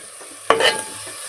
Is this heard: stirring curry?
yes